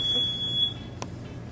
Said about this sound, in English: The gate beeps.